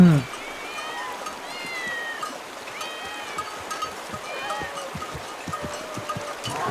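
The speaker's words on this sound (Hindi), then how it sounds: "ये इतनी सारी बिल्लियाँ यहाँ क्या कर रही हैं?" Several cats meow at once, overlapping high wavering cries against a busy background murmur of voices and outdoor noise.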